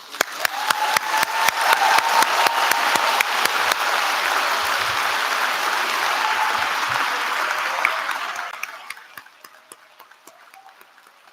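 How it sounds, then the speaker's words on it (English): Graduation ceremony audience applauding loudly and steadily for about eight seconds, dense clapping that then fades to a few scattered claps at the end. "And now we can let loose with the applause."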